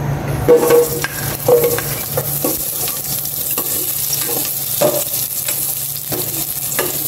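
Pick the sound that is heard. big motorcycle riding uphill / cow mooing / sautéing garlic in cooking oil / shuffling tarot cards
sautéing garlic in cooking oil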